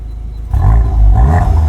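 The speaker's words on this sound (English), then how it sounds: "Give me a few revs." Manual 2023 Volkswagen Golf R 20th Anniversary Edition engine revved while stationary, a low idle bursting into a loud, deep exhaust roar that swells and holds.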